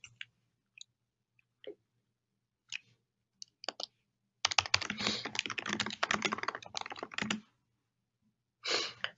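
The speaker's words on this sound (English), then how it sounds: "when I start typing" Rapid clicking keystrokes on a computer keyboard, close and distinct, with sparse isolated taps at first, then a dense sustained burst of typing and a short final flurry.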